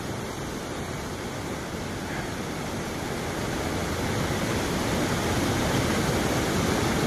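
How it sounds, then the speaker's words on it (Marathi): A waterfall on a river pours down in a continuous, dense roar of rushing water, close and steady, growing slightly louder toward the end with no voices over it. "आणि पाण्याचा धबधबा बघा कसा आहे बघा"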